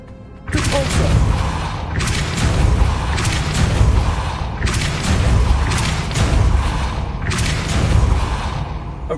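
A Depulso force spell cast in Hogwarts Legacy on PS5 lands as a series of loud, booming thuds and crashes. Heavy impacts burst out at regular intervals over a continuous rumbling bed.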